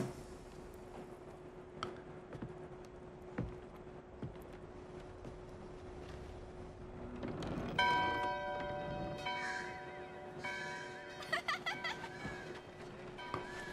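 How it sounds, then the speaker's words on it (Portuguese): In Diablo 4, quiet ticking and faint background noise, then a resonant bell strikes and rings out with a long, shimmering decay, followed by a few more chimes. "Bateu o sino."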